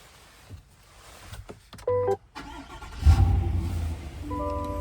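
A 2024 Chevrolet Tahoe RST with a 6.2L V8 starts from inside the cabin. A short starter whir is followed by the engine catching with a loud low surge, then settling into a steady idle.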